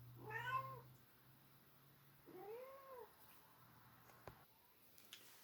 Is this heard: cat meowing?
yes